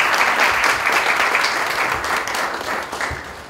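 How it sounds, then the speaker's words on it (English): Audience applause for the women at a Women's Day celebration: a dense, steady wash of many hands clapping together, loud and sustained before gradually thinning toward the end. "A big round of applause to all the women here."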